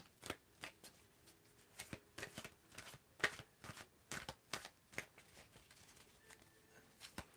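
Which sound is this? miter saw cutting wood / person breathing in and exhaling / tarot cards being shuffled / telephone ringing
tarot cards being shuffled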